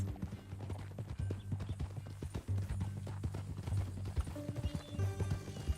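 Horse hooves clip-clop steadily in Red Dead Redemption 2, a continuous rhythmic plodding at close range beneath low game ambience and music-like tones, with brief voices.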